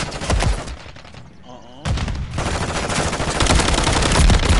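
Rapid automatic gunfire from a shooter video game bursts loudly and densely, drops out briefly for a quieter moment, then resumes as sustained heavy fire through to the end.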